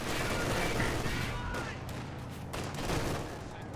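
German grenadier infantry firing rifles in the World War II strategy game Company of Heroes 2, a steady dense crackle of small-arms fire with scattered shots layered over battlefield din throughout.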